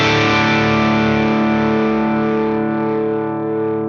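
A sustained, ringing electric guitar chord gets gritty edge from an SDD Boost overdrive pedal feeding a Fender Tone Master Pro Twin amp model, loud and alone, slowly decaying over four seconds.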